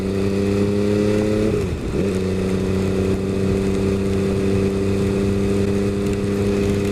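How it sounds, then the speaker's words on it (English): An MV Agusta F3 800 motorcycle ridden in wet, cold conditions holds a loud, steady engine drone with a brief dip and recovery of revs, then carries on evenly, with wind and road noise close by. "So now I'm riding a bike I'm not used to riding in the wet, in the cold."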